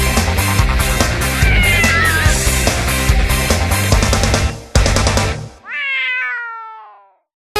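Cat meows heard in a Thai TV variety show segment, a series of rising-and-falling mews ringing out clearly after loud music cuts off, earlier partly buried beneath the dense backing track.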